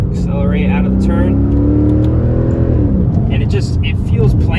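A Mercedes C55 AMG pulls hard out of a turn, its engine note rising steadily over about three seconds and then dropping off, heard from inside the car under continuous talking.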